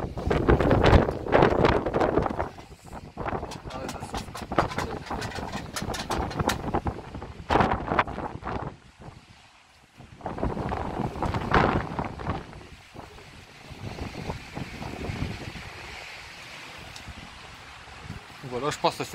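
Strong outdoor wind buffets the microphone at a hilltop castle ruin, roaring in loud uneven gusts with brief lulls, and someone talks faintly beneath the noise.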